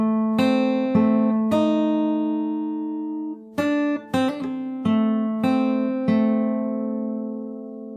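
Fingerstyle acoustic guitar plays a main theme phrase slowly, a sequence of plucked notes and chords with sustained ringing between attacks, close and unaccompanied.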